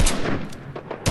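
Several quick gunshots from a Fortnite match, with a sharp burst at the start, a few more shots scattered through the middle and another at the end, all loud and close.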